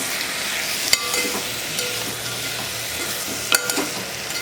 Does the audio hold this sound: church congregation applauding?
no